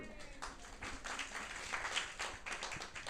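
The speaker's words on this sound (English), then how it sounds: "Give them a clap." Audience applause at a community retrofit session in Knowle West, Bristol, a short burst of steady indoor clapping from a modest crowd, continuous and moderately loud.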